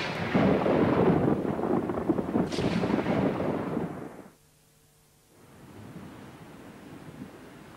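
A violent thunderstorm at sea rumbles and roars in heavy, loud broadband waves, drops to near silence for about a second, then returns as a lower, steadier wash of storm noise without speech.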